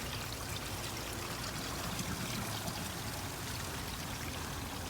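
Water pouring steadily through an Oase Screenmatic pond filter in a pond installation, a constant close rushing trickle with no pauses and no voices.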